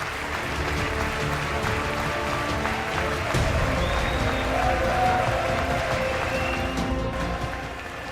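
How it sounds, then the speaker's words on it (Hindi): A packed chamber of the US Congress rising in a standing ovation after Prime Minister Modi's speech, sustained dense applause mixed with crowd noise and scattered cheering throughout. "पूरी संसद उनके सम्मान में खड़ी हो गई और तालियों से उनका अभिवादन किया"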